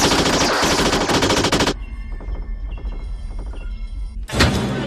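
Automatic machine gun fire in a Wing Commander movie scene, a loud dense burst that cuts off into a quieter rattling stretch before another loud blast bursts in at the end.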